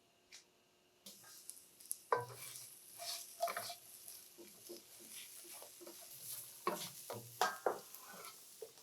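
Vegetables stir-fried in a wok with leftover oil for chow mein: sizzling broken by repeated scraping tosses and clattering stirs, close and moderately loud, starting after a brief quiet moment.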